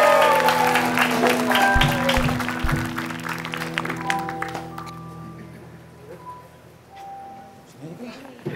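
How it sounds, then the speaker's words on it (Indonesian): A studio audience on a talk show applauds a guest named Jupri with dense clapping and a musical sting underneath, fading away after about four seconds into quiet room tone with faint tones. "Beri tepuk tangan untuk Jupri."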